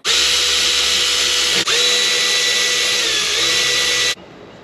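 A power tool drives and tightens a bolt on the supercharger tensioner of a Kawasaki Ultra 310 jet ski, whirring steadily and close for about four seconds. There is one brief dip partway through, then it stops abruptly.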